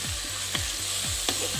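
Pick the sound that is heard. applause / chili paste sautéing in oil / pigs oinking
chili paste sautéing in oil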